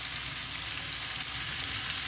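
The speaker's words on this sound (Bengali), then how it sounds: "আলু পটল ভাজা হয়ে গেছে" Diced potato and pointed gourd fry in a pan, giving a steady, soft, continuous sizzle with faint crackle and no voices.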